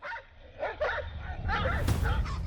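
A pack of dogs surrounding a snake, giving short excited barks and yips mixed with whimpers, close and fairly loud, with rough outdoor noise building toward the end.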